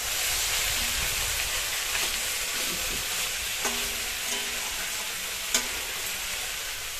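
Fresh cauliflower and spices sauté in a pan with a steady, rain-like sizzle, close and even, punctuated by a few scraping stirs and one sharp clink, with no one talking.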